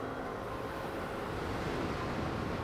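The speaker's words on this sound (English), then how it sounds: "this causes the wave to break" A wave breaks in a US Navy indoor ocean wave pool with a steady, broad roar of rushing water that holds even throughout, loud and enveloping, with no voices.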